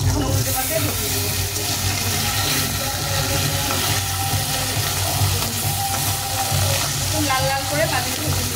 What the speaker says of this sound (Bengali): একদম সুন্দর করে মাছগুলো লাল লাল করে ভেজে নেব